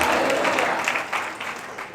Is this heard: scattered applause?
yes